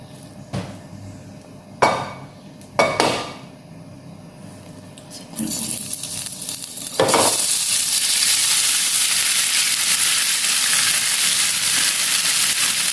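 Cooking oil heating in a pan before frying spring rolls: a few sharp knocks come first, then a broad, hissing sizzle rises and holds steady and fairly loud until the end.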